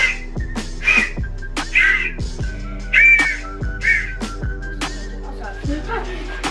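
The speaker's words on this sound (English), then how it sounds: "Oh, it's a whistle." Short shrill toy whistle toots repeat every second or so over a steady low hum and sharp clicks, with a voice speaking between the blasts.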